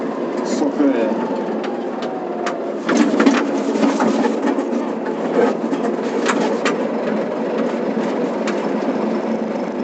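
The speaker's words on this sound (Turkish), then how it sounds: "Valla traktörü çift çeker aldım şu an. Zorlanıyor." A tractor engine drones and strains under heavy load while pulling two loaded trailers carrying about 17 tons of grain, a steady mechanical hum with rattles and clanks heard from inside the cab, alongside occasional voices.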